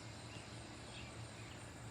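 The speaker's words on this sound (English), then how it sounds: "You hear the cicadas, right?" Cicadas buzzing outdoors during a power outage, a steady faint pulsing insect drone with no other distinct sounds.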